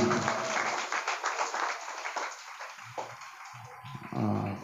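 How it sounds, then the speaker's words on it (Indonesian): An audience claps at a night Muharram religious celebration in a mosque, a thin, scattered round of applause that fades into a murmur of voices. "Tepuk tangan dulu untuk kita yang hadir pada malam hari ini."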